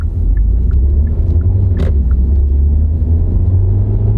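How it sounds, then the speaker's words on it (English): A quiet hybrid car cruising at speed with the air conditioning on its lowest fan setting: a steady low road and cabin rumble fills the interior, with faint, regular clicks of the turn signal ticking above it. "Now this car's so quiet, the only thing here is the air conditioning at speed 1 and the turn signal indicator."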